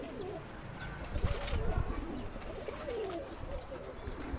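Young pigeon squabs in their first week coo softly and repeatedly in a loft, with faint wing flutters, rustling and bird movement close by, and brief murmurs of people in the background.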